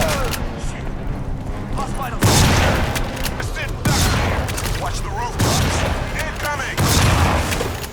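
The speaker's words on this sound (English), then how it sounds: "This is a really nice shotgun, primarily for the sound and impacts on both the environments and enemies" Shotgun blasts from the Crysis 2 video game, several loud booming shots spaced about every second or two, each with a sharp onset and impact crashes, over continuous game background noise and effects.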